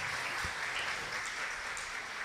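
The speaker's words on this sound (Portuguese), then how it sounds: "Uma salva de palmas para os professores e professoras presentes" Audience applause for teachers at a church event, a steady wash of clapping from many hands filling the whole stretch with no talk over it.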